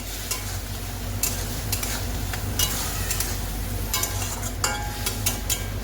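Spices with chilli and cumin powder sautéing in a pan, a steady close sizzle under repeated scraping strokes of a spatula, with no voices.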